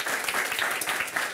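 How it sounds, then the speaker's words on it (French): Loud, continuous applause from a television studio audience, many hands clapping together at close range for a short burst. "On peut applaudir."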